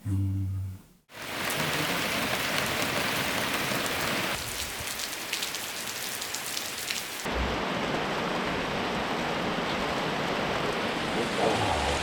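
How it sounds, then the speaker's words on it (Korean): Steady heavy rain suddenly pouring down outdoors, a dense continuous hiss of drops hitting surfaces that stays loud and even throughout, with no voices. "아우 비가 갑자기 이렇게 오네"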